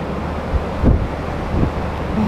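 Strong storm wind during the May 2017 hurricane in Moscow roars steadily and close, with a few heavier gusts buffeting the microphone.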